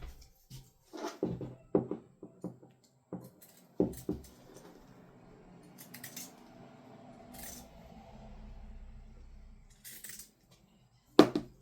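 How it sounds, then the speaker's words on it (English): Pinking shears snip through fabric in a string of short, close crisp cuts, spaced irregularly and fairly quiet, with small handling noises in between. "I'm going to get my pinking shears"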